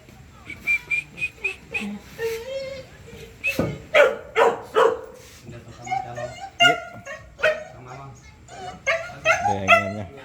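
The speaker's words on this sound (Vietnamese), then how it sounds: "đấy đàn chó săn rùa nhé" A pack of hunting dogs barks, yips and whimpers in repeated overlapping bursts close by, with people talking over and between the calls.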